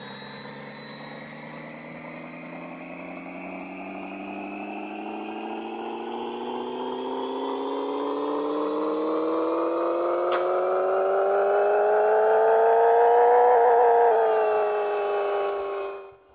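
A car engine in the Pixel Car Racer video game revs on a dyno, its tone rising steadily and smoothly for several seconds to a peak, then cutting off abruptly; loud and alone, with no talk.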